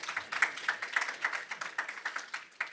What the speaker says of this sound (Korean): 그럼 박수로 한번 다시 맞이하겠습니다.